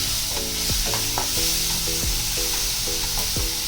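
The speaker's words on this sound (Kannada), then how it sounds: "ಟೊಮೆಟೊ ಮತ್ತು ಈರುಳ್ಳಿ ಚೆನ್ನಾಗಿ ಸ್ವಲ್ಪ ಅದರಲ್ಲಿ ಫ್ರೈ ಆಗಲಿ" Chopped tomato and onion fry in a pan of oil with a continuous close sizzle, punctuated by the regular scrape and clack of a spoon stirring every half second or so.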